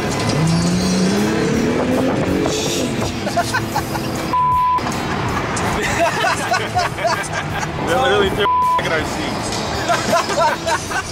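A sports car accelerates nearby with a rising engine roar, revving through gear changes amid road and tire noise, while people talk and chatter over it.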